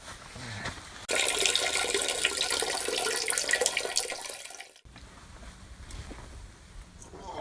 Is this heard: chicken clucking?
no